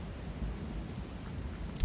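Steady rain falls with a low rumble of thunder in the Book of Hours video game, a dense continuous wash of noise with no voices.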